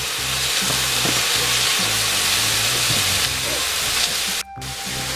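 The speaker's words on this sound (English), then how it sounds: "what I'm gonna do is start browning my chopped meat" Chopped meat browns in a warmed pan for chili, making a loud, continuous close-up sizzle and frying hiss with faint stirring, and no talking.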